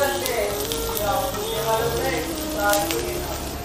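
Sliced onions dropped into hot oil spread evenly across a pan, giving a close, bright sizzle that holds steady for a few seconds.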